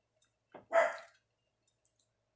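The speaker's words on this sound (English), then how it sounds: "Got dogs barking in the background." A dog gives a single short bark, distant and muffled in a quiet room, followed by a few faint clicks.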